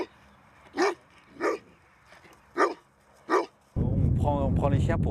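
Patou guard dogs protecting a flock bark in four spaced, sharp outbursts over faint wind, followed by a sudden burst of loud, close talking.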